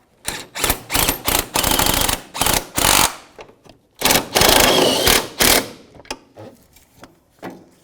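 A ratchet wrench tightens the engine torque strut mount bolts on a 2009-2014 Nissan Maxima, close and loud, with rapid clicking bursts in quick repeated strokes that slow and fade toward the end.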